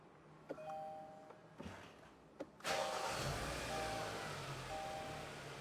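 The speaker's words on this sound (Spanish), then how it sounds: "Vamos a arrancar el vehículo." A spark-ignition car engine cranks and catches after a few soft dashboard chimes and clicks, then settles into a steady, close idle rumble.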